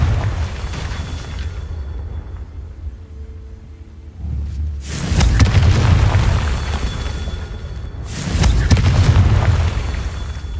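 Confringo fire spell blasts in the video game Hogwarts Legacy: two loud, booming explosions a few seconds apart, each a sharp burst followed by a rumbling tail over a low ambient game bed.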